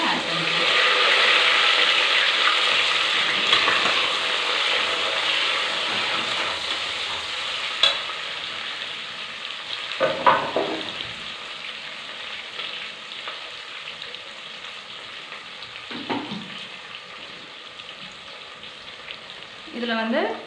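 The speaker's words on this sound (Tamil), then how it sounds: "இப்போ சோம்பு பொரிஞ்சதுமே கருவேப்பிலையும் பெரிய வெங்காயத்தையும் ஆட் பண்ணிக்கலாம்" Fennel seeds, curry leaves and big onion fry in hot oil with a loud, dense sizzle that slowly eases, broken by a few scraping stirs and clinks of a spoon against the pan.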